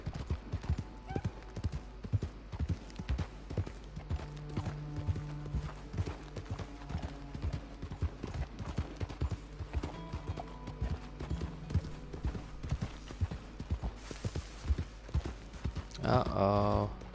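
Rapid horse hoofbeats in Red Dead Redemption 2 clip-clop steadily and fairly quietly, a continuous galloping rhythm with occasional creaks and a brief louder burst near the end.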